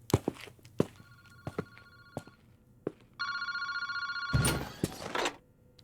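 A park phone booth telephone in the video game PARANORMASIGHT rings in short electronic bursts between thudding footsteps, then rings continuously and loudly near the end amid a heavy thump, with no talking.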